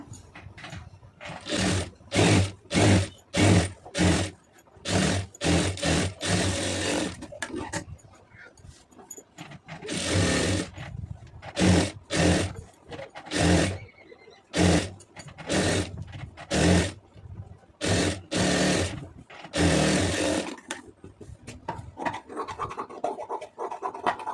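A sewing machine stitches lace onto a net fabric sleeve, running in quick repeated bursts of rattling needle motion separated by short pauses, close and fairly loud.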